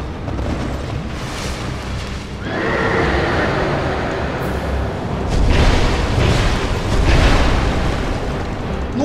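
Horse neighing in Dark Souls II: Scholar of the First Sin, a loud drawn-out whinny rising over rumbling ambient game noise, with a second whinny building near the end.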